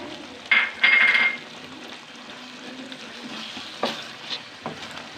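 Chopped green chillies dropped into an arvi baingan masala and stirred, giving a sharp burst of sizzling and frying followed by a softer steady crackle and a few spoon scrapes, close up with no voices.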